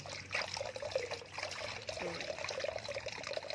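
Water trickles and splashes over the roots of a dwarf Oroxylum plant as they are washed, a close, continuous dribbling with small irregular splashes.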